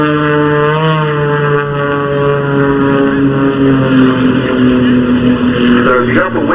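A Pitts aerobatic biplane fitted with jet engines and a redesigned upper wing performs an airshow display. Its steady, droning engine holds throughout with a slight swell, while a commentator talks over it.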